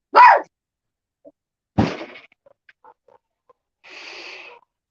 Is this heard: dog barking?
yes